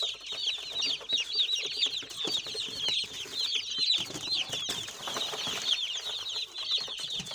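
Several young broiler chickens clucking and chattering together nearby in a cage, a busy overlapping chorus with occasional wing flutters and shuffling.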